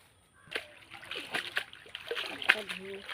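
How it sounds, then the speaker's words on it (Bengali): Malabar spinach leaves being washed in pond water, with repeated splashes and sloshing in close bursts while someone talks throughout. "পিসি শাকগুলো পুকুর থেকে ধুয়ে নাও"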